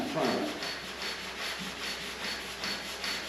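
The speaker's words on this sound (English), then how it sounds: "So I'm going to sand it perfectly and smoothly" Sanding the body of a 1964 Chevelle Malibu to a smooth finish before priming: a steady, close, rhythmic scratchy rubbing with repeated back-and-forth strokes, heard alone.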